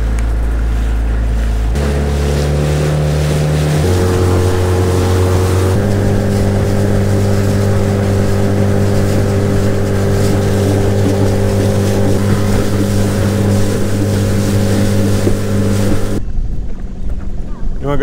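A DIY skiff's motorboat engine drones steadily and loudly on Lake Bastrop, its pitch shifting as it changes speed, with water noise underneath, then cuts off near the end.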